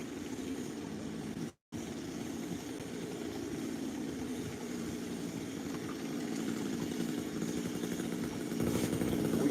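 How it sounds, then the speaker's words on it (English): Chainsaw running a few feet away outdoors, a steady buzzing engine drone that holds throughout and grows slightly louder toward the end, with no talk. "We got a chainsaw that's running 5 feet behind me."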